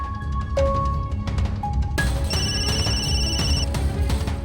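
A ringtone plays repeated bright electronic tones over a background of music or noise, the melody shifting and growing busier midway.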